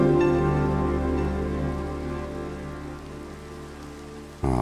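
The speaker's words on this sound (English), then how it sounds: "Oh, I kind of love it when it rains." Rain falling in a blocky Minecraft-like game world by a lake, a soft steady patter lying beneath sustained musical tones that carry on throughout, ending with a sudden louder shift.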